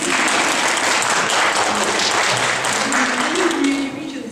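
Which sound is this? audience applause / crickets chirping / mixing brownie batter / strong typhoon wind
audience applause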